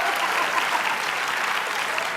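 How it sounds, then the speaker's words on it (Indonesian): A studio audience on an Indonesian television talk show breaks into applause, a dense and even wash of many hands clapping, loud and sustained throughout. "Tepuk tangan."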